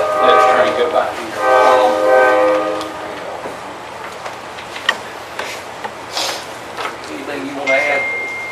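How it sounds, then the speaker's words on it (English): A passing train near Dillon sounds its horn in long, loud, sustained blasts, then rolls on with a lower rumble and scattered clanks and clatters as the cars go by. "Let the train go by here."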